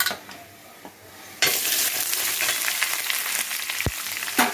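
Chopped onions hit hot oil already crackling with mustard seeds and lentils in a pan, bursting into a loud, steady sizzle after a quieter stretch, with a few stirring clinks and a sharp tap near the end.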